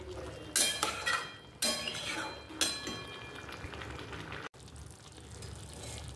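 Sesame mixture stirred in a pan to dry it out, with three sharp clinks of a utensil against the pan early on, then a steady soft frying sizzle running underneath.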